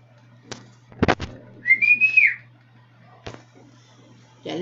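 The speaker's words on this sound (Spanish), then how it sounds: "Ya le tuve que chiflar" A person whistles loudly to call someone: sharp claps or clicks, then one bright rising-and-falling whistle of about half a second, close and alone over a low electrical hum.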